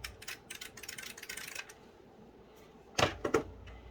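A TheC64 Maxi joystick, a replica of the Commodore 64 controller, gives a few sharp plastic clicks. They come close and fairly loud in a short cluster after a stretch of fainter rattling handling noise, with no talk.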